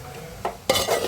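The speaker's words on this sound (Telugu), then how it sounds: "ఇలా క్యారెట్ అంతా కలుపుకోవాలండి" Grated carrot for carrot halwa is stirred in a pan, still wet and steaming off its water: two quick scraping strokes of a spoon against the pan, close and clear, with a soft sizzle underneath.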